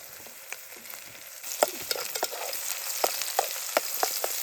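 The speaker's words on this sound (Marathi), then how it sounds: "मस्त पहिला कांदा आहे ना, मस्त इकडे बघा फ्राय होतोय" Onion fries in a pan at a night group camping cook-up, a soft steady sizzle broken by sharp scraping stirs and clinks that grow more frequent midway.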